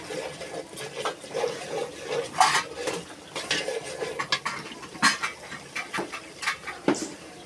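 Chickpeas for chola boot stirred in a pan with a utensil, producing irregular close scraping and clinking knocks of metal on metal in uneven bursts.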